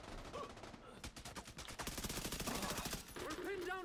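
Turret fire in The Division 2 at a stronghold's main gate, rapid evenly spaced automatic shots rattling in a steady stream, with brief game sounds and a voice mixed in.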